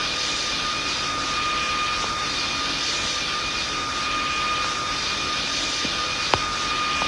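Airplane engine in the flight game PTFS, approaching Lukla airport with the throttle eased back: a steady, even drone with a constant high whine, running alone without talk, with one brief sharp click near the end.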